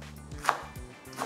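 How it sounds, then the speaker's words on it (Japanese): A knife cuts through the tough core of garland chrysanthemum (shungiku) on a cutting board: two or three crisp, close chops in quick succession. "芯を落として、今日はあのハンドミキサーにかけますね。"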